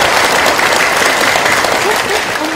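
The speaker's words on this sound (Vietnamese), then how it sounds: "phải vỗ tay cho mình." Loud, close audience clapping during a Buddhist dharma talk, a dense continuous patter of many hands, with faint voices murmuring underneath near the end.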